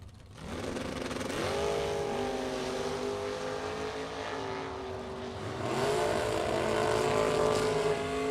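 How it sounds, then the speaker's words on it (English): Drag race cars, including a second-generation Chevrolet Camaro, launching down the strip at a bracket race, with loud sustained engine roar rising in pitch as they accelerate away, alone without talk. "How about that drag race?"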